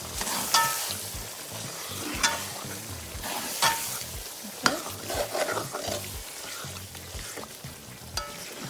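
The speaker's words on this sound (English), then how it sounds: "Now mix it together with the stew." Black-eyed peas are stirred into a stew in a pot, with repeated scraping and knocking strokes of a spoon over a soft, steady sizzle, close and moderately loud throughout.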